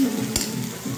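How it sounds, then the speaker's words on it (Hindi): Masala for paneer matar being sautéed and stirred in a pan, a steady sizzle broken by one brief scrape of a spoon against the pan, close and fairly loud. "इसमें भून लेंगे अभी और थोड़ा सा भूनेंगे एकदम अच्छे से"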